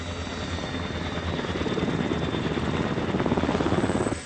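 A helicopter's engines and rotor blades during a troubled landing in combat, a loud steady turbine whine with a rhythmic rotor chop that builds slightly toward the end, with no voices.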